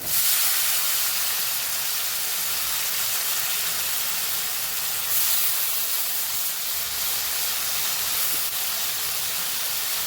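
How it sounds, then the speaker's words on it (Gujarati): Steady, loud sizzling hiss of whole fenugreek greens frying in hot tempering oil, continuous for the whole stretch with no voices. "હવે આપણે ભાજીનો વઘાર કરી લઈશું।"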